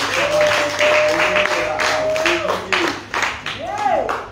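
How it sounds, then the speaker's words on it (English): Church congregation clapping during a service, a loud, sustained round of hand claps from a crowd with a voice ringing out over it and a sliding tone mixed in. "Clap for Jesus."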